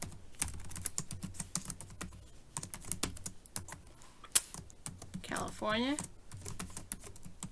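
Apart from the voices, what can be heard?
typing on a computer keyboard into Excel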